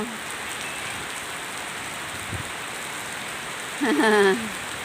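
Heavy rain falls in a steady, dense hiss of drops on surfaces nearby. A short voice breaks in over the downpour near the end.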